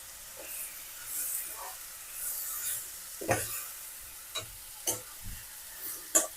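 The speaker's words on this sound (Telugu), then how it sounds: "సిమ్లో పెట్టేసి వేపుతున్నాను" Chopped raw carrot and mango fry gently over low heat in a pan for chutney, with a faint sizzle and intermittent sharp scrapes of a spoon stirring.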